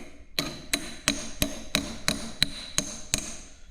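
Nine sharp metallic hammer blows on a tapered pin during a steam engine restoration, evenly spaced about a third of a second apart, close and loud with no talking.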